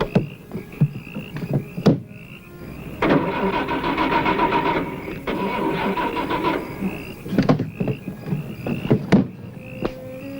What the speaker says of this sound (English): my car won't start